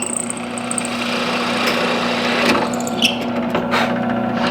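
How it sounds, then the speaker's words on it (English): Power drill boring straight through a stacked knife handle material, a steady motor whine with a sustained tonal hum that rises slightly in load midway, with brief higher scratchy bursts as the bit cuts. "I'm gonna drill my first hole completely through the stack now"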